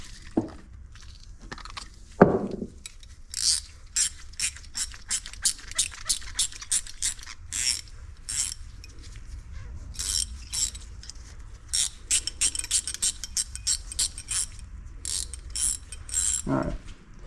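A ratchet wrench clicking in short bursts while adjusting the valves on a small block Chevy cylinder head, close and irregular, with scattered metallic taps and pauses between strokes.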